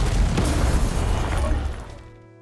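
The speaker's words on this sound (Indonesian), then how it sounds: "Akhirnya, Tom mulai mengancamnya dan meledakkan rumahnya." A house blown up in a film, one loud booming explosion with a heavy low rumble that rolls on for a couple of seconds before fading away.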